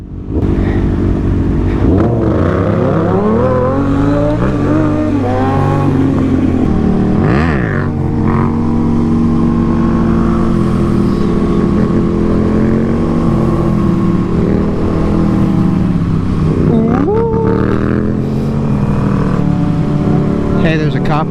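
Stunt motorcycles race from a traffic light, their engines revving hard and climbing through repeated pitch sweeps as they accelerate and shift, loud and close throughout, with riders talking over the noise.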